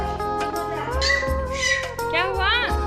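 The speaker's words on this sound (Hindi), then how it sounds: "वो है बिल्ली, वो है म्याऊं।" A house cat gives several drawn-out, rising and falling meows in quick succession, loud and close, with a person's voice talking alongside.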